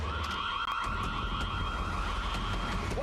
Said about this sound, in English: Why's the alarm going off?